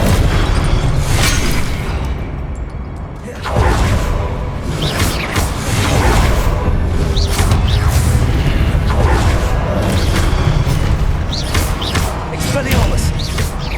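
Confringo spell blasts in Hogwarts Legacy go off as repeated booming bursts and whooshes, loud and close, in a dense run of impacts with a brief lull, while a voice keeps calling out spells over them.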